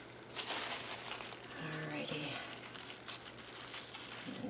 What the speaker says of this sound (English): Next, you'll put down your saran wrap. You want it kind of crinkly